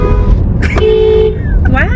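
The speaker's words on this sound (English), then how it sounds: "Why is he honking at you? And you honk back?" A car horn sounds on a city street amid traffic, with a short toot and then a longer sustained honk, loud and close, followed by another brief blast.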